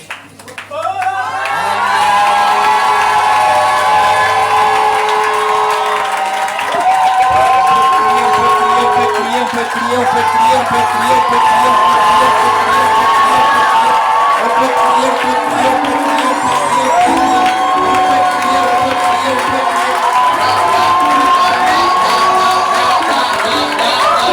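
A large audience at a conference event cheers, whoops and shouts continuously for over twenty seconds. The sound is loud and close, with scattered applause mixed in and voices rising over the noise.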